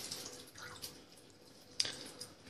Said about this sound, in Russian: Вот вода постоянно течет, надо будет менять кран.